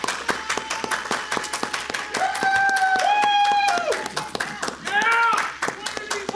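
Hands clap in a quick, steady round of applause from a small group, sharp taps running throughout while people talk and exclaim over it.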